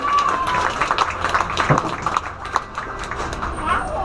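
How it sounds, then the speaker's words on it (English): Spectators applauding at a dolphin show at the Gulfarium marine park, scattered clapping from a crowd that swells and thins over a few seconds, with background chatter and crowd noise mixed in. "Let's give him a big round of applause."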